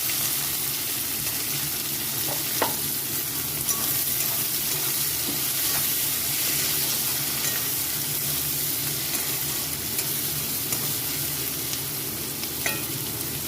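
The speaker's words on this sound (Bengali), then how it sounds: "এখানে দিয়ে দিচ্ছি কুকারে পেঁয়াজ" Chopped onions fry in oil in a pressure cooker pan, giving a steady, close hiss with occasional faint clinks, continuous and unbroken with no talking.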